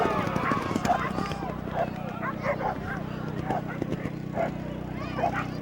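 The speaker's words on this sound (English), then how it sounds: "It's a close horse race, and here comes D'Alessio, but it's going to be Buck Jake's." Horses gallop in a steeplechase race at the Pennsylvania Hunt Cup, with hoofbeats thudding in a loose rhythm. Dogs bark and a commentator talks over the sound.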